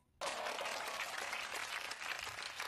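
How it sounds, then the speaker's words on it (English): A classroom group bursts into a round of applause after a short silence, dense clapping holding steady and close for a couple of seconds. "Let's give ourselves a round of applause."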